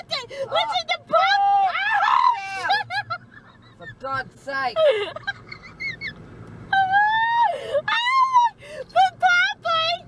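A crowd of seagulls screeches and squawks loudly in rising and falling cries near a pathway, with a person's exclamations mixed in among the calls.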